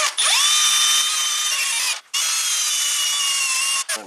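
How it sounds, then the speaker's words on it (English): A power wire wheel grinds corrosion off a metal part from a '91 Audi 200 Quattro A/C system, a loud, sustained high-pitched whirring scrape with two brief pauses as the tool lifts off the surface. "let's clean this off with a wire wheel, degrease it, and see what happens."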